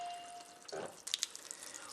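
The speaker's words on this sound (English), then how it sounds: "only water out of the alkaline water spout" Water runs from the alkaline spout of an Orion Jupiter water ionizer set to purified water into a sink, a soft steady stream that follows a short tone and a brief clatter, heard close and alone.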